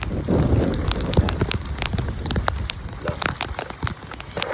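Steady rain pattering on surfaces close by, with scattered louder drops hitting throughout; no voices.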